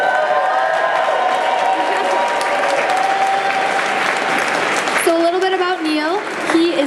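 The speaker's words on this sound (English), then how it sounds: "You can cheer for him." A rally crowd in the Minnesota State Capitol rotunda at a 2014 NORML event claps and cheers loudly and continuously in a reverberant hall. A voice rises over the applause near the end as it thins.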